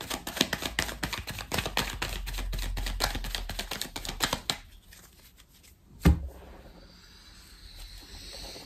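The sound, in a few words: tarot cards being cut and shuffled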